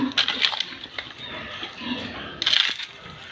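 Pigs being fed, with close squeals and snorts in short bursts alongside crunching and clattering feed sounds, loudest at the start and again near the end.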